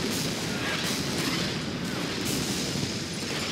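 Massive artillery pounds away in Order of Battle WWII, a continuous roar of overlapping booms and rumbling barrage, steady and loud throughout with faint periodic impacts.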